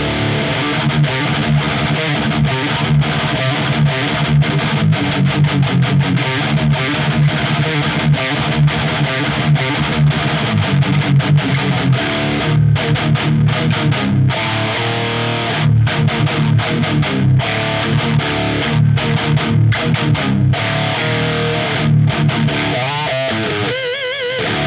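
An electric guitar played through a Marshall JCM800 2203 Bad Boy amp, mic'd with a G75 blended with an Audix i5, chugs and rings with heavy, loud, continuous distortion for about 25 seconds, alone with no talking.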